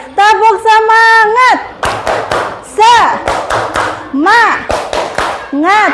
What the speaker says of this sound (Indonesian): kita tepuk semangat dulu deh, biar semangat ya